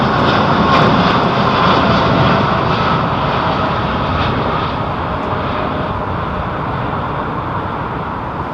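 A heavily derated jet airliner departs London Heathrow, its engines a loud, steady broadband roar that fades slowly as the aircraft climbs away.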